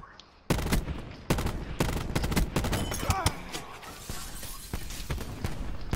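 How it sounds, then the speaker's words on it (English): Video game gunfire comes as loud, close, sharp cracks, with a sniper rifle among the shots, spaced irregularly across several seconds and overlaid by faint background game noise. "I shot the guy with the sniper."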